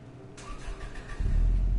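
A car engine in Gran Turismo Sport cranks and catches, then settles into a deep, steady rumble that swells louder toward the end, with no talking over it.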